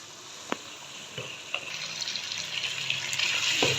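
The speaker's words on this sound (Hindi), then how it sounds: "अब इसकी मैं खूब भुनाई करूँगी, दही का पानी भी खुश्क हो जाए और दही के अंदर ये गोश्त जो है ये अच्छे से भुन जाए।" Beef korma frying with yogurt in a handi pot, a steady wet sizzle that builds gradually louder, with a few sharp clinks of a spoon early on; no talk.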